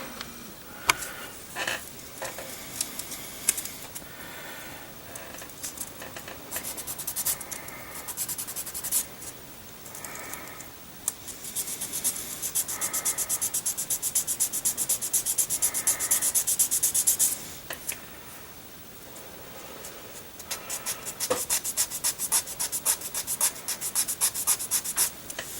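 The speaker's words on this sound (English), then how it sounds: "with the plastic block, we will sand it smooth" Abrasive rubbing of a plastic sanding block over a small model piece, repeated close strokes in bursts of scratchy friction separated by brief pauses, with no voices.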